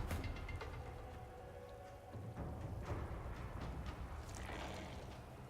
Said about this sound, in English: Alright, we'll do a rain spell.